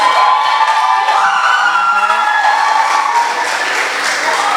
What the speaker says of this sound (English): I just had to say the name of the school to get the applause first.